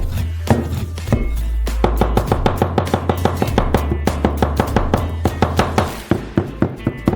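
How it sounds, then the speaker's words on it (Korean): A knife chops pepperoni sausage finely on a cutting board, a rapid series of sharp close taps in a steady rhythm, with a low background hum at times. "페페로니 소시지를 가능한 한 잘게 다져주세요"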